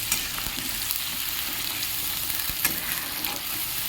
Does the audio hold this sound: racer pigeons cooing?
no